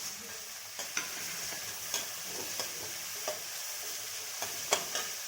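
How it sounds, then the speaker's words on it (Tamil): Chopped onions stir-fried in a pan while cooking a palak spinach gravy, with a steady soft sizzle and scattered sharp clicks of a spatula scraping and stirring, close and fairly quiet, no voices. "இது ஒரு 2 நிமிஷம் நம்ம வதக்கலாம்."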